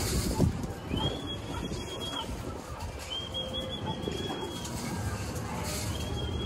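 Pet birds flutter and coo nearby, with soft wing flaps and a faint whistling tone repeating over steady outdoor background noise.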